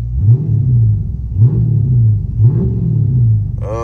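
A car engine revs three times in quick succession, each burst rising and falling in a deep, close roar, before a brief higher-pitched whine at the end.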